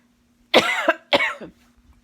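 Two loud, harsh coughs, close to the microphone, each breaking into a rasping tail, separated by a short pause in an otherwise quiet room with a faint hum.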